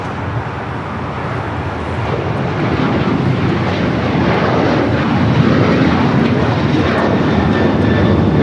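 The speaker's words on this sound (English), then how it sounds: "This is United Airlines 1284 taking off to Seattle on the 737-900ER." A United Airlines Boeing 737-900ER takes off from LAX for Seattle, a loud, dense jet roar building slightly and holding steady throughout with no talking over it.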